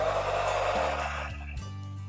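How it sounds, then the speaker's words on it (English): A hair dryer blows steadily to dry watercolor paint, a continuous broadband whoosh with a shifting low motor hum that changes pitch partway through, heard close and alone for about two seconds. "I'll quickly dry it with a hair dryer"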